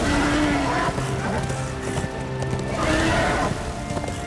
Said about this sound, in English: Ride, horse, ride.